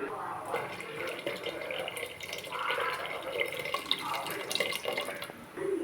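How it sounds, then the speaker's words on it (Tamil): Tamarind water is poured into a simmering egg curry, giving a soft, steady liquid splash and trickle that runs unbroken through the moment at moderate volume. "ஒரு எலுமிச்சம்பழம் அளவு புளி எடுத்து அதை கரைச்சி வச்சுருக்கேன். இப்போ அதை ஊற்றிடலாம்."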